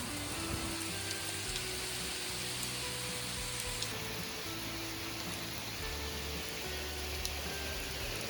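Steady rain falls at a farmhouse, with large drops dripping from trees, as a dense, even hiss under a low mechanical drone with faint intermittent tones; no one speaks.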